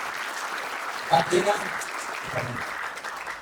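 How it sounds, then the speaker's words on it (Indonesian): Audience applause at a meet-and-greet gala event in Indonesia, a short burst of clapping rising under someone speaking over it. "Tepuk tangan."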